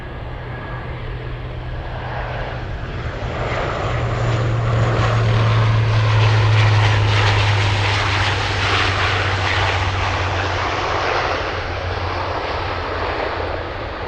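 An airplane takes off on a runway at Anchorage airport on a windy day, its engine roar swelling loud and steady, peaking midway, then slowly easing as it climbs away.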